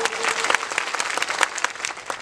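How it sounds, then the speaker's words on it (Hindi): An audience at a political rally breaks into loud, sustained applause, dense clapping from many hands close by with a slight crowd murmur, steady through the whole stretch. "एक बार जोरदार ताली हो जाए उनके साथ में"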